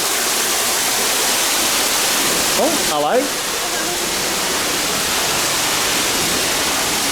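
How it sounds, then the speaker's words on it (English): Steady broadband rush of a waterfall at an amusement park attraction, constant and fairly loud throughout, with a brief spoken greeting partway through. "At least we got the sound of the waterfall."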